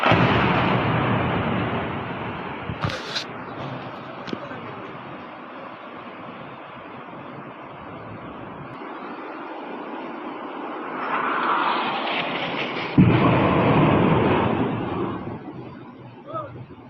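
Explosions from an attack in news footage sound as heavy rumbling booms under aircraft engine roar, with a sharp blast near the start and a strong surge toward the end, loud and continuous throughout.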